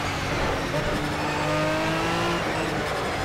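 A race car laps Zolder in the Project Cars video game, its engine droning steadily close by with shifting pitch as it carries speed through a corner, and someone talks over it.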